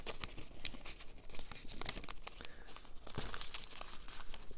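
Crisp paper crinkling and rustling as layers of a folded origami model are opened out, steady close crackles with brief sharper snaps, no voices.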